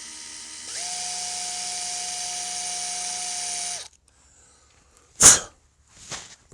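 A drill press bores a 1/16 inch hole for a Mauser 71/84 barrel band repair, giving a steady high motor whine for about three seconds that then stops, followed by a couple of short sharp bursts.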